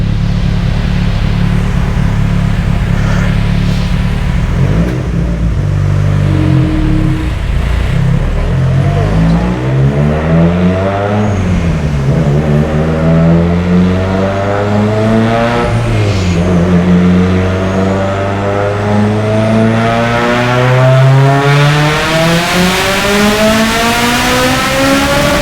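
Mitsubishi Evo 9 with a PTE 6466 turbo and GSC S2 cams, running on E85 at the same boost: a loud, continuous engine pull whose pitch sweeps up through the revs, drops at the shifts and climbs again for about 25 seconds.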